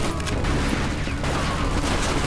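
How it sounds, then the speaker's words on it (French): Sustained machine gun fire in the Mafia 2 video game, a dense continuous rattle of rapid shots with booming low end throughout, loud and close. "Oh, on dirait qu'on a retrouvé la mitrailleuse."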